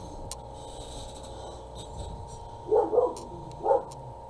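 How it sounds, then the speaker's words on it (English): A neighbor's dog barking outdoors in a backyard, a few short bursts in two clusters near the end, moderately distant over a steady low background hum. "it sounds like our neighbor's dog is out and he's having a coronary about it"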